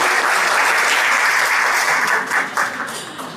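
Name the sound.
audience applause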